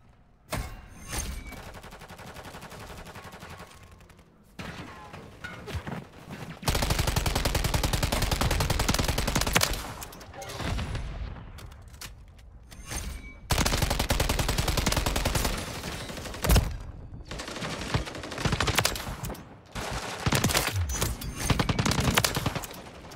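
TAQ Eradicator rifle fire in Modern Warfare 3, heard as loud sustained automatic bursts with short pauses between volleys and dense battlefield noise throughout.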